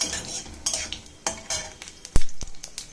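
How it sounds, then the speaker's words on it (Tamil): Mustard seeds popping in hot oil in a kadai for tomato onion thokku, with sharp, irregular crackles and spits and one loud pop over a low sizzle, close by and with no talk. "கடுகு நல்லா பொரியட்டும்"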